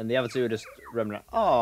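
Two high, warbling dinosaur calls with a gobbling, bird-like quality from the video game Jurassic Park: Operation Genesis, close and clear, broken by a short gap, with a brief spoken word between them.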